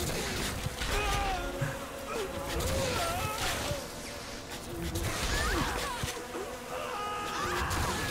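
A bee swarm buzzes in the Saints Row: The Third video game, with whining insect tones rising and falling over game noise and occasional impacts, while a person talks over it.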